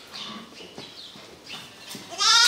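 Romanov sheep and lambs in a university barn, several short bleats from a few animals at varying distances, moderately loud, with a louder, higher cry closing the sequence.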